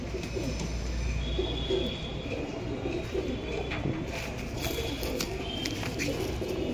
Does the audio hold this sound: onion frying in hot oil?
no